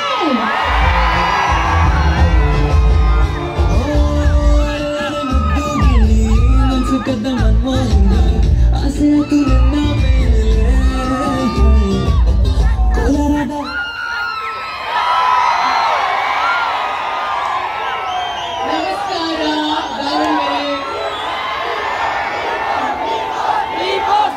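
A large crowd roars, whoops and cheers at a shopping mall grand opening in Davangere. The sound is loud and continuous: dense, tonal shouting for about half the time, then broader cheering that carries on.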